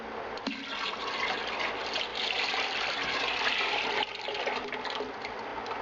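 Home brew wort poured vigorously into a fermenter holding yeast, a loud continuous splashing gush of liquid with a brief dip near the middle, close and without talk.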